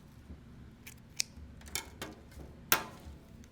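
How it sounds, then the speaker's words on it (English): A few quick, crisp snips of scissors cutting during a first-time PC build, close and fairly quiet, with small clicks and handling noises between the cuts. "I do not like using these scissors."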